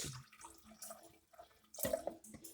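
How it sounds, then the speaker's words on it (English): Water runs from a tap in a kitchen while ricotta shells are being cooked, a faint trickle and splash in short bursts, louder near the end, with no voices. "I have to put some more water"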